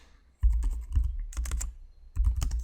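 Rapid typing on a computer keyboard while entering a formula into an Excel spreadsheet, with close, crisp key clicks coming in bursts separated by brief pauses.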